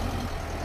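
A tractor pulling a spring-tine cultivator across stony ground gives off a brief, steady engine rumble of heavy, even noise heard close.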